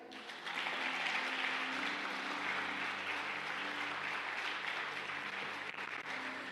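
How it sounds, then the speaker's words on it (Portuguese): A congregation claps during a healing and deliverance church service, a sustained, even roar of applause heard from some distance and fairly quiet, with a faint sustained musical tone beneath. "Aplauda aí, vai."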